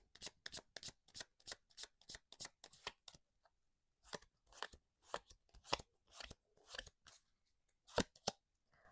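Tarot cards being shuffled by hand up close, crisp rapid riffles in quick bursts, with a brief pause midway before the shuffling resumes.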